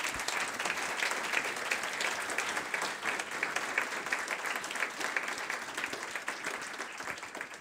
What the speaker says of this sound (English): warm applause to Rodrigo